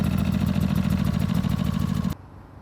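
A motorhome generator runs to warm its engine oil before an oil change. Its steady, close mid-pitched idling hum continues for about two seconds, then cuts off abruptly, leaving near silence.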